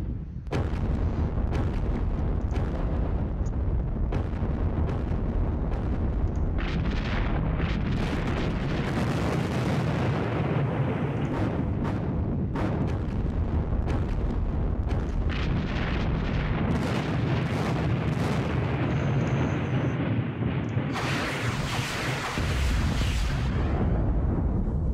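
Artillery fire in the Kursk wargame Panzer Battles rumbles continuously, with repeated deep booms and blasts layered into a dense, loud barrage.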